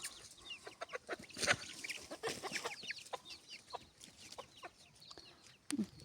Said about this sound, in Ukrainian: Птахи за курицями бігають, за курками.